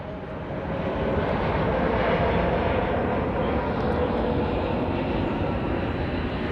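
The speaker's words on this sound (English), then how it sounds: "Let's let that plane go over." Airplane passing overhead on an airport flight path some 20 to 30 miles from the field, a broad, loud engine rumble that swells in and then holds as a steady roar.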